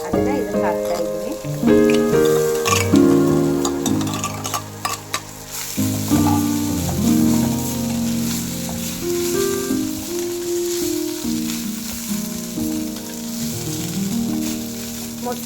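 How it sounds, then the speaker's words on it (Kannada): Washed poha being tipped into a hot pan of fried tempering for curd poha gives a loud, crackling sizzle, with scraping and stirring strokes throughout and a voice speaking over the cooking. "ಇವಾಗ 1-2 ಹಿಡಿಯಷ್ಟು ಅವಲಕ್ಕಿನ ವಾಶ್ ಮಾಡಿ ಇಟ್ಕೊಂಡಿದ್ದೆ, ಅದನ್ನು ಇದಕ್ಕೆ ಹಾಕ್ತಾ ಇದ್ದೀನಿ."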